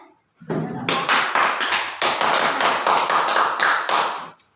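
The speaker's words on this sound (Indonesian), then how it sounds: "Tepuk tangan." A classroom of students clapping hands together in an Islamic religious education lesson, a dense burst of many sharp claps starting after a brief pause and sustained evenly for several seconds before stopping abruptly.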